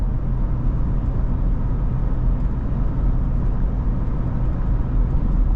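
Ford F-150 Raptor R with 5.2L V8 cruising at about 70 on flat road in quiet exhaust mode while towing an enclosed trailer, a steady low broadband drone of engine and road noise throughout, no talk.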